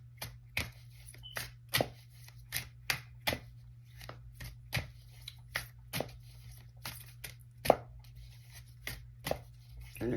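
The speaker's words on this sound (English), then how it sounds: "in case y'all don't know why I'm still shuffling" Tarot cards shuffled by hand in a quiet room, giving a steady run of crisp, close riffling snaps roughly every half second over a low constant hum.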